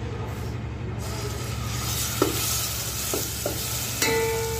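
Ground masala paste frying in hot oil in a pan for a fenugreek leaf dish, a steady dense sizzle throughout with a few soft clicks of a spoon, close up and with no talking.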